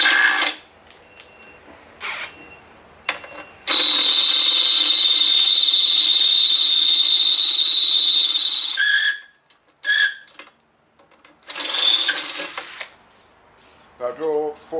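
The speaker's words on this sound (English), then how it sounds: "I change to the real big drill bit, one that fits those." A large drill bit boring holes in a shed workshop, a steady whining run of about five seconds followed by several shorter bursts, with quiet pauses between and no talk over it.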